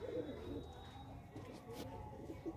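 Pigeons kept in a pigeon-club loft coo softly and faintly in a low, rolling murmur against a quiet background.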